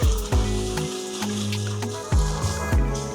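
Washed rice frying in a tomato base for Nigerian smoky jollof gives a soft sizzle, largely masked by louder clattering and bumping noises throughout the short stretch.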